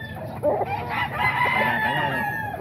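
Roosters crow over one another and hens cluck steadily amid the loud barnyard din of a chicken market in Bocaue, Bulacan, with several crows standing out close by.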